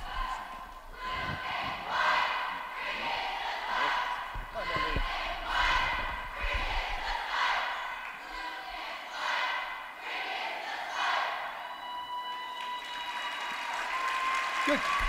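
Cheerleading crowd at a Division III school event chants and cheers in steady rhythmic waves, loud and sustained, with a dense crowd roar underneath and a few thumps and shouts throughout.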